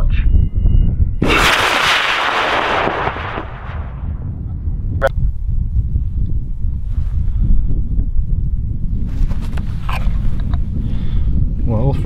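Model rocket lifting off on an AMW motor at a rocket launch event: a sudden loud roaring burst that fades over about three seconds, followed by wind noise and a crowd murmuring in the background.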